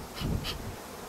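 Honey bees buzz at a hive being fed syrup, a soft continuous hum with a couple of brief louder swells as bees pass close, quiet and without voices.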